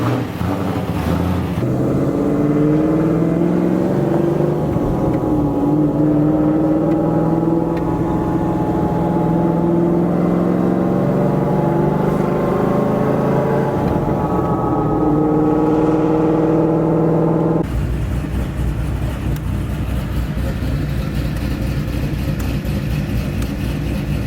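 A Pontiac Trans Am out on a test-and-tune drive, its engine droning loud and close as the pitch climbs steadily through acceleration, then drops abruptly to a rougher, lower cruise near the end; no one speaks.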